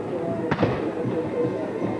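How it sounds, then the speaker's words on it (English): A cannon fires once at the end of a Coast Guard versus Norwich college football homecoming game, a single sharp boom over steady stadium crowd noise. "The cannon fires, and that's the end of the game."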